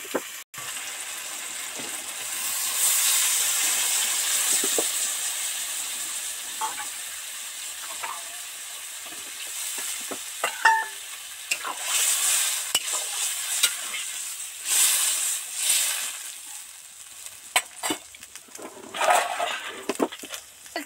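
Vegetables and spices in a pan give uneven bursts of hissing sizzle, rising and fading with stirring, scraping and a few sharp clinks, with no talk.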